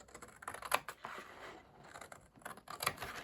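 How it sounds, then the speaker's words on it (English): Scissors cut into a cardboard cracker box in short, crisp snips and crunches close up, a few sharp clicks spaced irregularly, with no talking during the cuts. "And then we're going to cut this bit off. So with my scissors"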